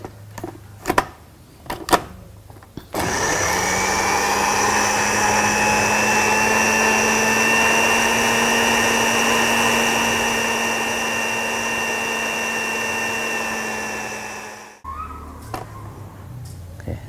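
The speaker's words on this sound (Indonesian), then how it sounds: "Kalau kita pakai mesin blender harus ditambahkan air sedikit, ya." An electric blender whirs on herbs with a little water, a loud steady high whine kept up for about twelve seconds before cutting off, with brief clicks and handling noises before and after.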